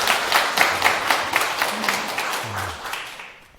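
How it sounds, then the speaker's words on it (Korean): An audience at a Buddhist dharma lecture breaks into applause, a full burst of many hands that gradually thins and fades toward the end. "박수 한번 주세요"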